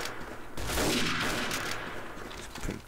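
Gunfire in the World War II shooter Day of Defeat, a loud sustained burst of rapid shots with a dense crackling roll that lingers for a couple of seconds.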